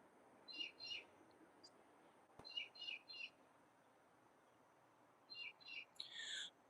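Birds call outdoors at night in a garden, three short bursts of paired chirping notes set apart by quiet pauses over soft background hiss, fairly distant and faint.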